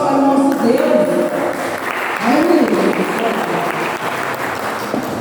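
A church congregation bursts into a strong, sustained round of applause, dense clapping that stays loud throughout, with voices and a tonal musical line audible underneath.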